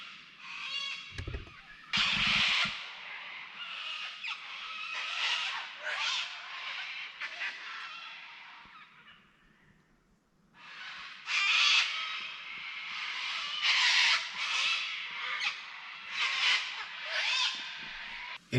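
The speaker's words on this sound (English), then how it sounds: "Suddenly a lot of birds." A large flock of birds with crows cawing outdoors at dusk, dense overlapping harsh calls filling the air in two long waves with a brief lull between, fairly close and loud.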